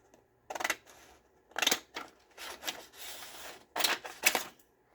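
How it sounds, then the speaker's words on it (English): Paper being cut along a marked line with scissors: several separate crisp snips and rustling slices, close and fairly quiet, with short gaps between strokes. "And then I'm going to cut along that line."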